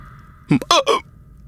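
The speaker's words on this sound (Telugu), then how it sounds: "మీకు ఎక్కిళ్ళు తగ్గట్లేదు?" A man hiccups, a short voiced catch followed by a couple of quick, choppy vocal bursts, close and clear against a quiet room.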